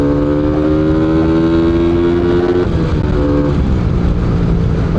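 Rusi Flash 150X motorcycle pulling hard in third gear, a loud close engine drone with a rising pitch that dips briefly midway, then climbs again.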